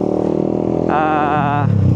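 A Suzuki GSX 150 motorcycle fitted with a racing ECU runs steadily in traffic with a low rumble, joined midway by a higher tonal whine from nearby traffic; constant and fairly loud.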